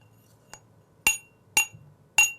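A glass tumbler is tapped to show its sound in a science lesson on metals and non-metals. One soft tap is followed by three louder, evenly spaced, sharp clinking strikes, each decaying quickly.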